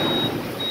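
A reverse osmosis water purifier's alarm sounds a steady high-pitched electronic tone that cuts off midway and resumes, over a low background hum.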